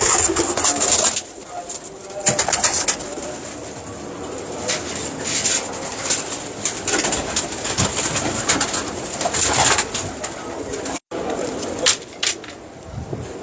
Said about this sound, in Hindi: बहुत ही बड़ा कबूतर है।